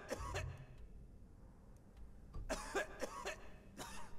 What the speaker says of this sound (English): Who the fuck is coughing like that?